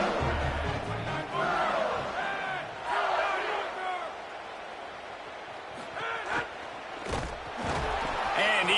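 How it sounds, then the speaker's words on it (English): A stadium crowd at a college football game stays on its feet, yelling and screaming in a loud, continuous roar with swelling cheers and a few sharp bangs, while a commentator talks over it. "for an entire game, they are on their feet, yelling, screaming"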